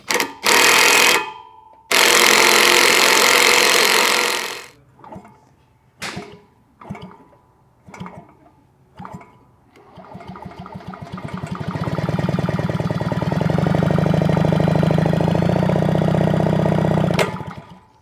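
A 1973 Penton engine fitted with a weighted flywheel is spun over by hand, giving loud whirring bursts and a series of short pulses, then a long sustained buzzing drone that cuts off sharply.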